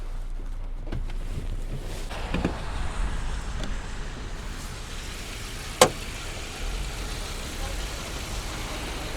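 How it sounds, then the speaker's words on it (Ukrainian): A petrol Audi A4 B-series restyling sedan idles with a steady, low engine rumble up close, one short sharp click partway through and a person speaking briefly over it. "давайте запустимо автомобіль"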